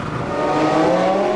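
Formula One race cars at the 1998 race start, several engines revving high and climbing together in a loud, steady whine with rising harmonic tones.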